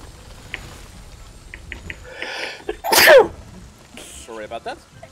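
A single loud, sharp sneeze from a character in the video game Trine 2, standing out in the middle of game ambience with soft voices and other game sounds around it.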